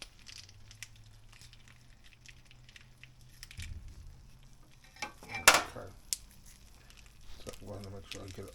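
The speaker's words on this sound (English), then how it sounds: "we are supposed to mix this white cheese sauce" A utensil stirs white cheese sauce in a container with soft, wet scraping and squishing, plus a sharp clink partway through, quiet and close while a person talks.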